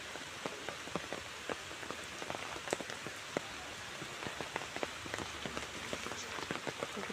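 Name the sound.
rain falling on a pond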